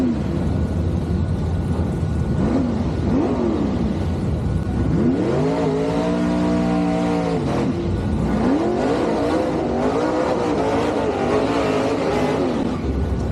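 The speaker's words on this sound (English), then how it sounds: "as you see the gassers come by" Gasser drag race cars roar past on a drag strip one after another, engines revving hard and loud with rising and falling pitch as they accelerate by, over constant crowd and track noise.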